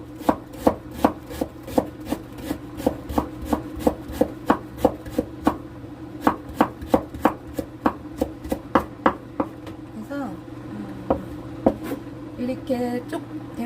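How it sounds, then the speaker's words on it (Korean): A knife chops green onions or scallions on a cutting board in a steady rhythm of crisp, close taps that pause and become scattered near the end, while someone talks quietly. "이렇게 대파나 쪽파를 송송송송 썰고요"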